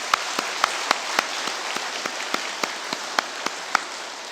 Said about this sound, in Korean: 우리 한번 격려의 박수 올리겠습니다